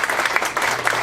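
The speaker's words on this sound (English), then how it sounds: "How about a round of applause for our students?" A school audience applauds its students at a one-act theatre send-off, a brief burst of dense clapping at steady loudness with no voices over it.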